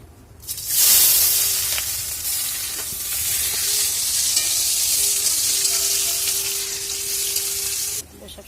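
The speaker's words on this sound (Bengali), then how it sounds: "পেঁয়াজ কুচিটা দিয়ে দিচ্ছি।" Chopped onion hits hot oil with whole cumin and bay leaves for a fish curry, bursting into a loud close sizzle that holds steady for several seconds before cutting off.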